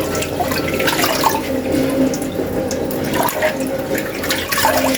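Running water pours steadily as bottle gourd greens are rinsed by hand in a sink, with soft splashing and leafy rustles close by throughout, no speech.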